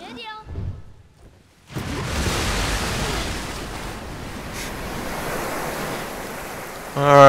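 Water waves surge and splash in The Last Guardian, a steady broad rush of surf that starts abruptly after a brief stretch of talk and stays loud. The rush swells again at the very end.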